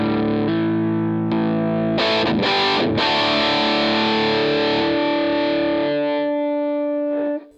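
An electric guitar played through an Ibanez Tubescreamer Mini overdrive pedal into a Vox AC30 amp rings out in driven chords and a few quick strums, then one sustained overdriven chord slowly fades.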